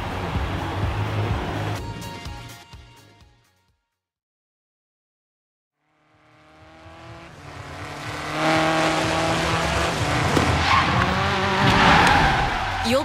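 An off-road buggy races against a Jeep in the driving game Forza Horizon 3. Engine roar and tire skids fade to a few seconds of silence, then revving and squealing return and build louder to the end.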